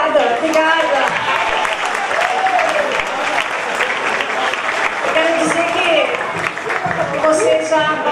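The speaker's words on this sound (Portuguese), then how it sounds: "Aplausos, gente." Audience applause at the Miss and Mister Amparo 2015 pageant, loud sustained clapping from a crowd, with someone speaking over it.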